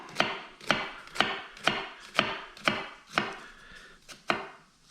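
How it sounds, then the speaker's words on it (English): A knife chops food finely on a cutting board, making about nine crisp, evenly spaced knocks in a steady rhythm, close and clear with no talking. "when we slice this really fine, we're going to get a nice, really fine dice"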